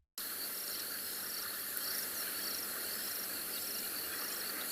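A continuous night chorus of bubbling kassina frogs on a summer evening safari, a dense trilling and bubbling texture that holds steady and moderately faint throughout, with no voices over it.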